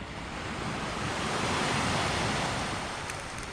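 Sea surf washing against the shore at Dubrovnik, Croatia, a steady, broad roar of waves mixed with wind buffeting the microphone, with no voices.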